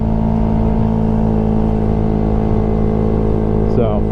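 A 2025 Honda Grom motorcycle engine wound up high in fourth gear, a loud, steady, buzzing drone close to the rider with a slight pitch shift near the end.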